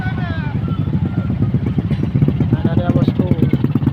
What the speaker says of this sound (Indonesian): sepeda motor akan melintas.